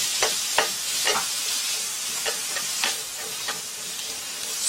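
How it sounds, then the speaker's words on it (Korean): Julienned carrots for gimbap stir-fry lightly in a pan under a steady hiss of sizzling, punctuated by a series of crisp spatula taps and scrapes at irregular intervals, with no voices. "살짝 볶아주세요. 많이 볶으면 당근이 부서져 버리니까"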